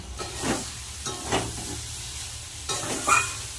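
Vegetables and spices are fried and turned in a pan, with a close, soft sizzle broken by three or four separate scraping stirs of the spoon, and no voices.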